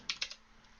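A computer keyboard gives a quick burst of three or four close, crisp keystrokes as a telnet command is typed, alone with no talking.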